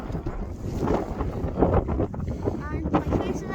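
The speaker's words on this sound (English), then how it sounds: "it might be a little hard to hear me because of the wind" Strong wind buffeting the microphone on a cold hilltop around 2,000 metres, a loud, gusty, rumbling roar that swells and dips throughout, with a voice faintly audible underneath.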